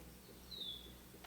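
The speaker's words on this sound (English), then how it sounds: "Birds calling." A faint, thin bird call drifts in from a distance over a low, quiet background hum.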